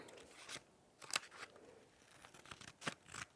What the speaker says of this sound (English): cut out the letters like that